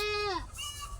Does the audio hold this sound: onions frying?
no